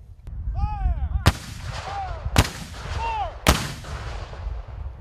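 Three booming blasts from Civil War Union artillery cannons fire in turn at a battlefield demonstration, each loud report ringing out with a long echo, while birds chirp faintly in the background.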